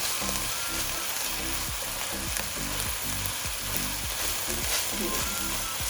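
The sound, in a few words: seasoned egg being stir-fried and mixed for fried rice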